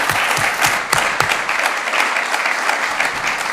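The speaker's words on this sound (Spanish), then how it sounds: "pediría un aplauso para todos y todas las voluntarias que se lo merecen" A room full of people applauds the volunteers at a talk on economy, cooperation and conscience, loud, close clapping that runs continuously without pause.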